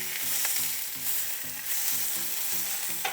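A Delmonico steak sizzles steadily in a hot pan just after being flipped, with a broad hiss and a regular pattern of low pulses, and no voices.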